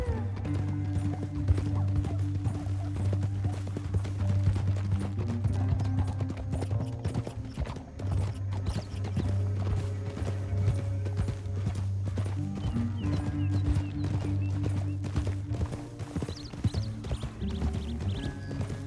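Rhythmic horse hoofbeats clip-clop continuously over a droning, musical background, with an occasional whinny, in the video game Red Dead Redemption 2. The galloping keeps a steady pace from start to finish.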